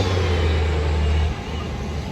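A bus passes near a high school campus, a loud steady low engine rumble and broad roadway noise that drops off partway through as it moves away.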